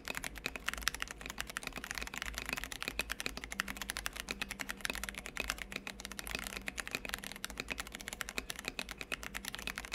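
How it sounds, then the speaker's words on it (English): Stock Cherry MX Brown switches on an R1 KBD67 Lite keyboard being typed on: a fast, continuous patter of scratchy keystrokes, close and fairly quiet, with no talking. "let's listen to them completely stock on an R1 KBD67 Lite"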